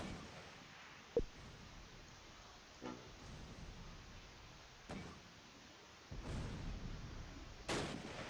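Mortar barrage in the World War II strategy game Close Combat: Last Stand Arnhem, faint distant thuds and muffled blasts spaced a few seconds apart over a low background rumble, with no speech.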